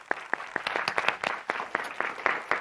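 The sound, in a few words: applause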